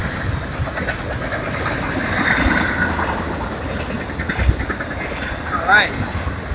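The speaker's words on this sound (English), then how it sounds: "Going on Amtrak, that's cool." An Amtrak passenger train rumbles past on a rail line near a New York City signal bridge. The rumble is steady and mid-distance and swells toward the middle of the clip, with some brief squeals.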